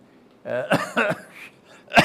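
A few sharp, throaty coughs in quick succession, close and fairly loud, with a short pause before a final harsh one.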